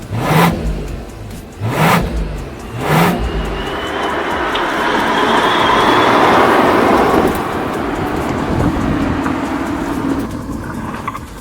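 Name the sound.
Mercedes-AMG CLE 53 engine revving while accelerating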